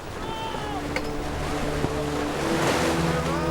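Wind and waves at sea aboard a sailing ship, steady wind rush and surging water swelling louder toward the end.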